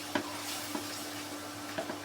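Fish frying in a pan with a turmeric and chili paste, giving a steady soft sizzle with a few scraping stirs near the start, middle and end, close and quiet.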